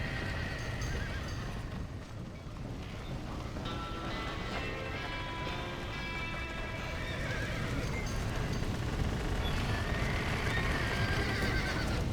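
Horses in the Red Dead Redemption video game whinny and neigh repeatedly over busy clip-clopping hooves, with a rain-like wash of background noise throughout.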